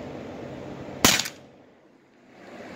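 A tuned Crosman 3-inch revolver air pistol fires a single crisp, close shot that snaps out of a quiet room and fades quickly.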